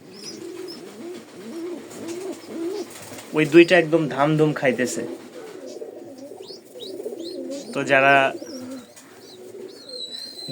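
Domestic pigeons on a farm coo softly while feeding several chicks, low throaty murmurs running throughout with a few louder cooing bursts, someone speaking nearby.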